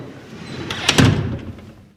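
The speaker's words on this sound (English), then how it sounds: "but the doors closed automatically" Automatic doors at a bank slide shut with a soft rush and a firm closing thud in the middle, close by and moderately loud, then fading to quiet.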